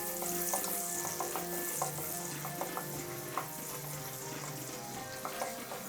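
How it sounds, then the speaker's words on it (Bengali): Chopped onions fry in three tablespoons of oil in a pan, producing a constant close sizzle and crackle with light occasional stirring taps. "এবার আমি পেঁয়াজ কুচি দিয়ে দিচ্ছি। পেঁয়াজগুলি হালকা ভেজে নিব।"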